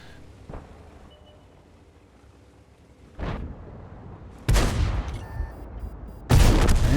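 Tank cannons fire in World of Tanks, featuring an Obj 430 II, with several heavy booming shots, one distant and muffled, then two loud close blasts each trailing a rumbling decay, and no one speaking.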